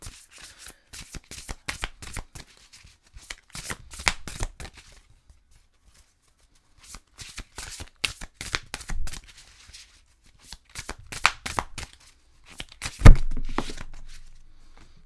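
Tarot cards are shuffled by hand in repeated bursts of crisp riffling and slapping, with short pauses between rounds and a final thump of the deck near the end, close and clear.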